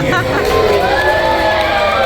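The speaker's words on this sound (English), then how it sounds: "we are going to keep that applause going and those cheers" A large crowd of passengers on a Disney cruise ship claps and cheers loudly and steadily, with whoops and high children's shouts rising above the dense applause.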